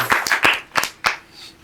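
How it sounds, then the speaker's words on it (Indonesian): A few hands clap in scattered, uneven bursts, five or six sharp claps over a short moment, fairly close and modest in volume, like a small studio group applauding briefly. "Tepuk tangan"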